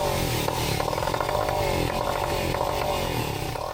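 A rebuilt 15 horsepower outboard engine runs at a steady, loud, buzzing drone close by, with no breaks or changes in pace.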